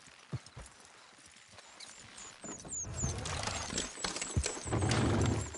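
Rhythmic hoof clip-clops from a horse in a PS4 video game, starting sparse and faint, then building into a steadier, louder trot with a busy backdrop of ambient noise.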